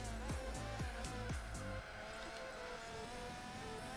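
A race car engine in the video game Gran Turismo 4, on the Tokyo R246 endurance course, revs in quick rising bursts through several gear shifts, then settles into a steadier, quieter drone.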